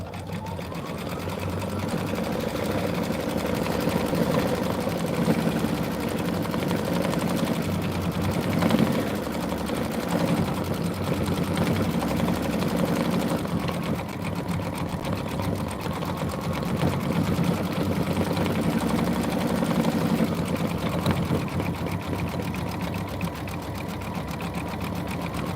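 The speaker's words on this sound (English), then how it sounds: "now we're going to do the satin stitch around his little noggin" A sewing machine runs satin-stitch embroidery in one continuous, steady, close mechanical whir with a fast needle rhythm, heard alone for the whole stretch.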